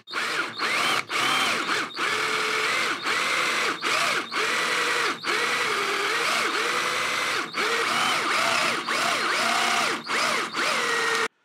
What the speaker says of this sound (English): going to spot the holes with a 1/4-inch drill.